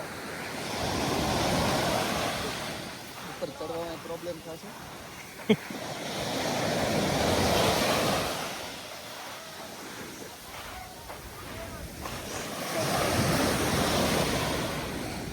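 High sea waves break and wash along the shore in repeated surging swells with wind across the microphone, loud and close, while people talk over them.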